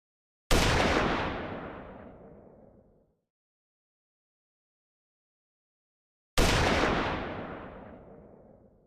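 Two single gunshots from an Unreal Engine 5 third-person shooter game, each a loud sharp crack with a long decaying reverberant tail, spaced about six seconds apart with silence between.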